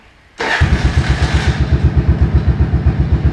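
A 1983 Yamaha Virago 750 Midnight Special motorcycle cranks and fires up, then settles into a loud, close, steady, pulsing idle with a rhythmic lumpy beat and no one talking.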